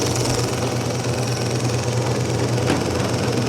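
A 95-year-old Kwik-Way grinder starts humming right after it is plugged in, a steady, loud, close mechanical drone with a low hum and a brief click near the end.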